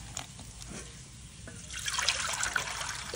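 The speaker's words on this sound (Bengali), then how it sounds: "কাঁঠাল সেদ্ধ কাঁঠালটাকে কিন্তু আবার একটু ধুয়ে দিচ্ছে," Boiled jackfruit rinsed under running water makes a gentle trickle that grows into a fuller, splashing flow in the second half.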